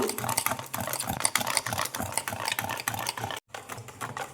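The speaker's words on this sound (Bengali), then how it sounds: "দেখো এই আটার মিশ্রণটা আমি ভালো করে ফেটিয়ে নিব" Flour batter being whisked by hand in a bowl, a quick steady run of light tapping and scraping strokes, close and fairly quiet, with a brief pause near the end.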